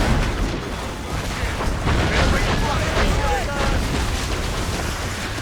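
Naval cannon and mortar volleys from warships in Assassin's Creed Rogue, a dense continuous rumble of booms and blasts layered under shouted voices and game sound, steady and loud throughout.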